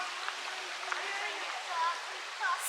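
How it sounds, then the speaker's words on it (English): A babbling brook flows steadily outdoors, a continuous close rushing wash of water with a few faint chirps over it. "sees a babbling brook"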